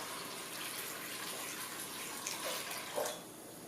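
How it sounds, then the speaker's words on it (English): Water is poured into a cooking pot of squash soup with coconut milk and spices, a soft steady splashing stream that swells briefly near the end, with no talking. "and then put in some water."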